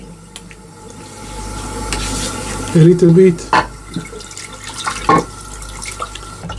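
Running tap water splashing as a face is wetted before a classic wet shave, with bursts of dripping and splashing, and someone speaking briefly over the flow.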